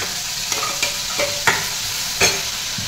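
Onion-tomato paste fries in hot oil in a wok with a steady sizzle, broken by several sharp scrapes and stirring strokes at irregular intervals, close and clear with no voices.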